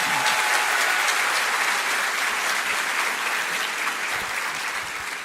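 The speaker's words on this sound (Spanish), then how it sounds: "vamos a dar un aplauso de mayor honra" Sustained audience applause at a morning church gathering, dense and steady clapping from a crowd that holds at full strength for several seconds and eases only slightly near the end.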